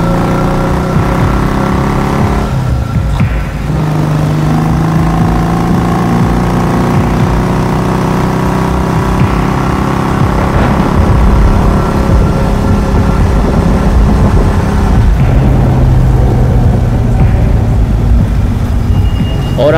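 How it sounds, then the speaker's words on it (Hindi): Motorbikes riding along as a sound effect in a Hindi horror cartoon story, a continuous engine drone with shifting pitch throughout, loud and close, with a brief dip and change in tone midway. "और फिर गुल्ली गुल्ली की बाइक पर बैठ गया और बाबा ने अपनी बाइक निकाल ली"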